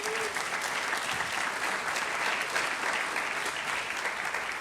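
Clapping fills a high school honors convocation as the audience gives a sustained round of applause, dense and even from start to finish.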